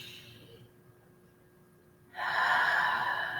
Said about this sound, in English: let's just take a couple of really deep breaths, okay, right into the stomach, right to the bottom of the lungs.